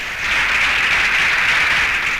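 A crowd applauds at a political rally, a steady, loud wash of clapping that holds evenly for about two seconds without voices.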